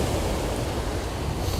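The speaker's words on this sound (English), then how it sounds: "I love hearing the waves too, Michelle." Ocean surf at La Jolla Cove in San Diego, California, rolls as a steady, loud broadband roar with some wind buffeting the microphone and no voices.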